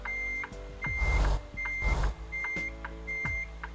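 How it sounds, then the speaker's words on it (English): Truck reversing alarm in American Truck Simulator: a steady series of evenly spaced, loud electronic beeps over a low engine rumble, with a couple of whooshing air-brake hisses between them. "Beep, beep, beep, beep, beep. That's annoying."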